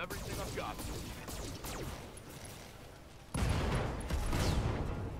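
Weapons fire in the Roguetech video game, heard as dense crackling shots and impacts over a constant noisy bed, then a sudden loud surge of heavier blasts that holds to the end.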